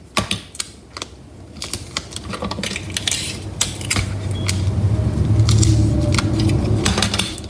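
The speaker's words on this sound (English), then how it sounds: "I'm going to take some Scotch tape and fold it over to tape it" Scotch tape is pulled off the roll and folded over the edge of a bag, sharp crackling and ticking bursts early, then a longer stretching rasp of tape building in loudness.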